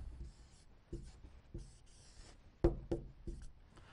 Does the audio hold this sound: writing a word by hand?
yes